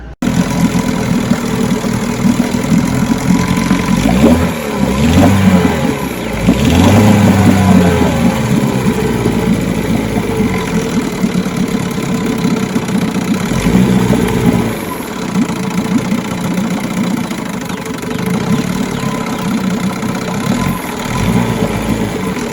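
A 1972 Evinrude Fisherman 6 hp outboard motor runs steadily and loud throughout, idling with a rough, pulsing beat and a few brief swells in speed, with no talking.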